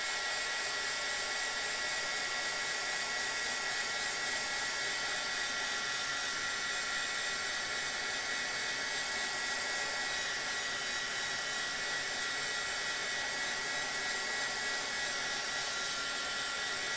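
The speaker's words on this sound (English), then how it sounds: "speed drying it with my heat tool" Heat tool blowing steadily to speed-dry alcohol marker ink, a constant loud whooshing fan hiss with no change in pitch or level from start to finish, close up with no voices.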